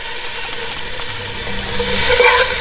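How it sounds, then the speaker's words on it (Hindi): Shredded cabbage stir-fried in a hot pan for chicken chow mein, a steady hiss and crackle with occasional scraping and clinking as it is tossed, close and loud. "आपने कैबेज को भी स्टिर फ्राई करना है इस तरह से"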